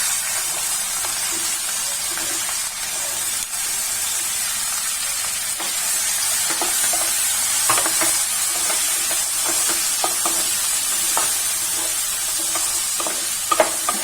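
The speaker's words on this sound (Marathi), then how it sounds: "आता ही चांगली तेलात परतून घेऊया" Square-cut capsicum pieces fry in hot oil for a dry sabzi, giving a steady sizzle with scattered scraping clicks of stirring, close and continuous with no talking.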